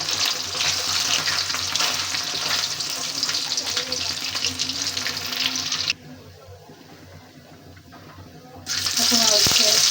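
Onion fries in hot oil for a fish and potato curry, a loud close sizzle that drops to a quieter hiss for a few seconds before swelling back up.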